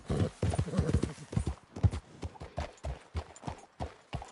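Horse hooves clip-clop at a steady galloping rhythm in Red Dead Redemption 2, close and fairly loud, with a brief snort or whinny mixed in and no talking.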